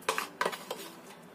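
A tablespoon clinks and scrapes against a bowl while dry ingredients for an egg-free, milk-free pumpkin cake are scooped in, three sharp metallic taps followed by softer scraping, close and clear with no talk.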